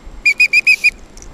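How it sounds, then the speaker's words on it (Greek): A lifeguard on a beach with strong currents blows a warning whistle in five sharp, loud blasts in quick succession, close and alone, followed by faint shorter chirps. "με τη σφυρίχτρα του κρούει τον κόντονα του κινδύνου στους λουόμενους"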